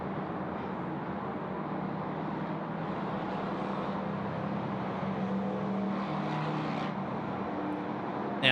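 An airplane departing Sydney Airport produces a steady, moderately loud engine roar that holds evenly throughout with no voices, a sustained distant drone.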